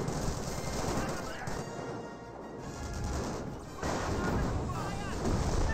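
Sniper rifle fire in a Company of Heroes multiplayer battle, set amid dense, continuous game-battle noise with crashing impacts and scattered gunfire, fairly loud throughout with a brief dip in the middle.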